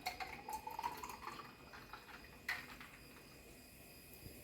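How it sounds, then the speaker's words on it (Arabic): Soda poured into glasses for a mojito, a faint rising trickle of liquid filling a glass, then a light clink and quiet drips. "دلوقتي هنحط الصودا بتاعتنا"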